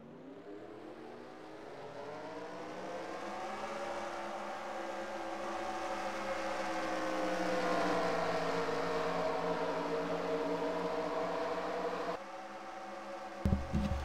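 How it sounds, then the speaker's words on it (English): Stock car engines in a racing video game fire up and rev together at a California Speedway race, a steady loud droning roar that swells midway and then cuts to a lower rumble near the end. "Drivers, start your engines."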